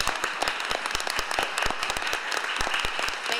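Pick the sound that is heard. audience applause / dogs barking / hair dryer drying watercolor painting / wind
audience applause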